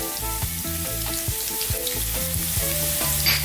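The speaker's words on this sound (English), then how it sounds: "To that we're going to add our garlic." Garlic slices, chunky-cut, sizzling in hot oil for a quick prawn noodle dish, a steady close frying hiss with periodic stirring clatter over a low background tone, no voices.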